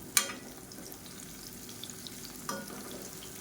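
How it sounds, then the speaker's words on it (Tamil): Plantain pieces frying in a pan of oil with a steady sizzle, broken by a sharp clack near the start and another about two seconds later as the slices are turned over. "இப்போ வாழைக்காயை சேர்த்துட்டு நல்லா 1 நிமிஷம் ஆயிடுச்சு. இப்போ திருப்பி விட்டுக்கலாம்."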